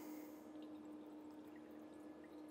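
Water poured into the tank of a budget Harbor Freight steam cleaner, a steady close splashing gurgle with a faint tonal hum that runs unbroken and fairly quiet throughout.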